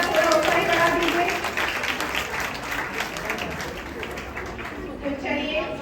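An audience applauds a children's short-play performance with a continuous crowd clapping that softens over time while a voice speaks across it.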